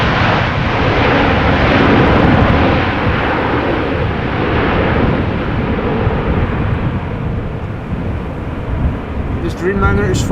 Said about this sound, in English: This is KLM flight 622. It's a 787-10 Dreamliner arriving from Atlanta, Georgia.